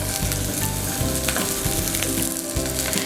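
A low-protein burger patty sizzles loudly in a frying pan, a dense steady crackle with small popping bursts throughout and no voices.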